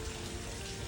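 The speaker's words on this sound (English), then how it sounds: "it's a waterfall. How freaking cool is that? Coming from right out of the rocks." Small waterfall pouring straight out of rocks in a canyon below Hoover Dam, a steady close rushing wash of water with no voices over it.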